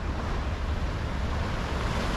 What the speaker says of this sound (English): And the waves, oh, do they break.